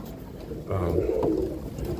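Bill Watson roller pigeons coo softly in their loft, a brief low burst of cooing amid quiet room tone.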